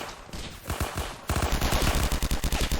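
Rapid bursts of gunfire in a Roblox D-Day game, a few separate shots followed by a fast, rhythmic stream of automatic fire, loud and close.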